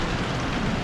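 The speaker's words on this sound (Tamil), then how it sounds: "மழை பிரிச்சு மேயுது" Heavy rain pours down steadily during a monsoon trip in Kerala, a dense continuous hiss of water on surfaces filling the short moment with no voices.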